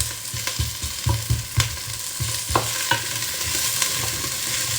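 Chestnuts tipped into a pot for chestnut soup and stirred, a loud close sizzle with a rhythmic run of spoon scrapes and knocks against the pot, settling into steady frying.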